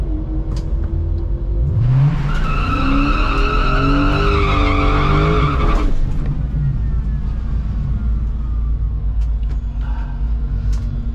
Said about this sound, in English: That was not a good burnout.